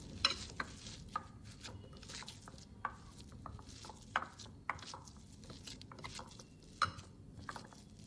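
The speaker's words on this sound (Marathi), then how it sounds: "आता मी 1 चमचा तेल घेऊन थोडं पुन्हा मळून घेते हे पीठ" Chickpea flour dough worked by hand with a spoon of oil, giving soft, irregular squelching and patting sounds with small sharp clicks, close and fairly quiet, with no talking.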